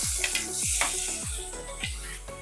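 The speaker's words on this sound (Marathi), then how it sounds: "आता आपण याच कढईमध्ये थोडंसं अजून बटर टाकायचं" Tomatoes sizzling in butter in a kadhai while making a paneer butter masala, a steady hiss with repeated scraping stirs of a spoon against the pan, close and moderately loud.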